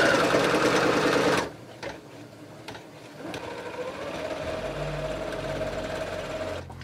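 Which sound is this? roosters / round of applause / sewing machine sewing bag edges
sewing machine sewing bag edges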